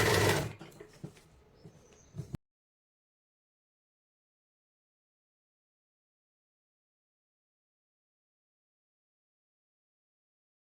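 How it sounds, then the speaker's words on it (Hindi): Sewing machine stitching a seam on a kurti, a brief close mechanical run of about two seconds that stops abruptly into silence, no talk. "इस कॉर्नर से सिलाई लगाना शुरू करेंगे"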